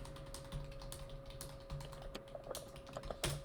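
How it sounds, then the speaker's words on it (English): Rapid clacking on a computer keyboard that is acting up, irregular keystroke bursts over a faint steady electrical hum, heard alone without talk. "my keyboard's acting up."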